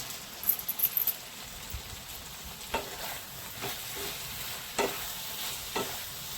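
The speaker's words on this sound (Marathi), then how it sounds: "त्यामध्ये आपण मॅगी मसाला घालून घेणार आहे आणि मिक्स करून द्यायचं." Dahi bhindi (okra in yogurt) with Maggi masala sizzles gently in a pan as a spoon scrapes and stirs it, with a few sharper clicks and scrapes over a steady quiet frying hiss.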